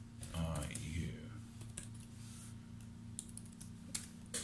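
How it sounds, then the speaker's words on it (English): Keys clatter in quick, irregular taps on a keyboard shared with a Samsung Galaxy Tab S7 Plus, and a person talks briefly at the start over the close typing. "This is me typing on my"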